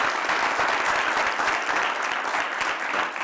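A college audience applauds Dr. Salmon and his team at a diversity, equity and inclusion event, dense, loud clapping that stays even throughout.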